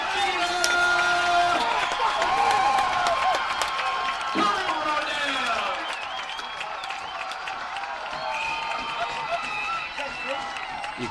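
A high school football crowd at a Heritage Christian versus Scecina game roars and cheers after a blocked kick, loud and sustained with whistles, whoops and clapping, and people talking through it.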